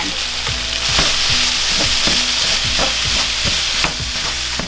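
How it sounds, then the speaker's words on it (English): Onion frying with ground beef in a pan, a loud continuous sizzle with rhythmic scraping strokes of a spatula roughly every half second. "we really like onion mixed in with our ground beef, so that's why I'm adding that"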